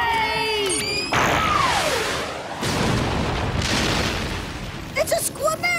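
A cartoon torpedo fires off with a descending whoosh, then a long rumbling boom and burst follow, loud and full, with brief squeaky effects before and after.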